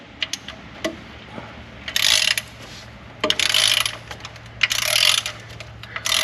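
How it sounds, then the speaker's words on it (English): A bolt is loosened on an engine during a cam phaser swap, with silicone sealant tearing free in several bursts of crackling, ratchety scraping, interspersed with small clicks and taps, close and fairly loud. "you could actually hear the silicone releasing as I loosen that bolt up"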